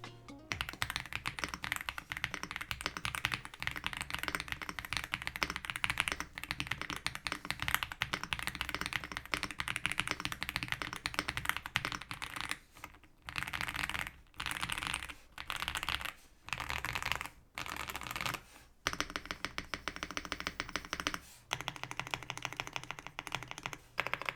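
Rapid, continuous clacking of a mechanical keyboard being typed on, close up, with brief pauses between bursts of keystrokes.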